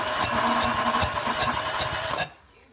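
A weak Renault Clio 1.0 16v engine with compression leaking between cylinders turns over loudly up close. It gives a steady regular knock with rhythmic puffs for about two seconds, then cuts off abruptly into quiet.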